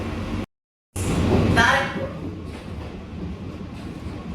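A Sealdah-Kalyani AC local train rumbles and clatters as it pulls into Barrackpore station, with a brief dropout at the start and a voice speaking over the rolling noise.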